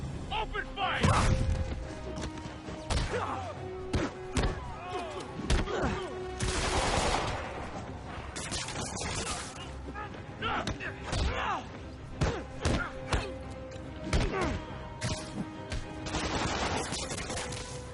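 Enemies in the Marvel's Spider-Man video game open fire, loosing rapid bursts of automatic gunfire mixed with single shots, heavy thuds and crashes that go on throughout, with game music and voices underneath.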